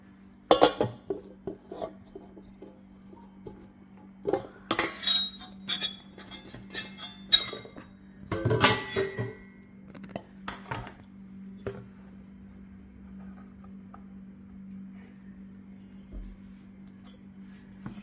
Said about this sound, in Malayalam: നമ്മളിതെല്ലാം കൂടെ ഒന്ന് മിക്സ് ചെയ്യാം കേട്ടോ